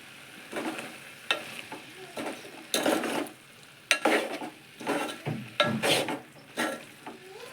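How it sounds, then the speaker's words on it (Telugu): Spoon stirring spices and coriander powder into a curry in a pan, giving a series of scraping, sizzling strokes in irregular bursts, close and moderately loud, with no talking. "మిక్స్ చేసుకుందాం."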